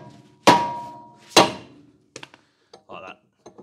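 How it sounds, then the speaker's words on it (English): A soft face hammer strikes a brake rotor on a Mazda CX-7 rear brake job: two loud, sharp blows about a second apart, each ringing briefly, followed by faint tapping and handling noises. "try and use a soft face hammer, so hit it 3 o'clock, 9 o'clock, 12, and just keep working it"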